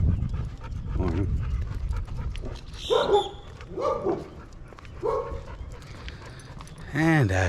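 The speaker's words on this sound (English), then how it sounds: "as the dogs continue to bark at Daisy" Dogs barking near the Belize border crossing at Corozal in the morning, several sharp barks and yelps spread across the clip at moderate distance, with panting and people talking in between.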